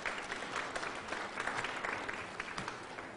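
Steady applause from an audience at a public morning event, a dense, even clapping that carries on for a few seconds without talk over it.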